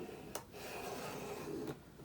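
A plastic scraper rubs across vinyl lettering on glass, a soft, steady rasping scrape with two sharp ticks where the stroke starts and ends.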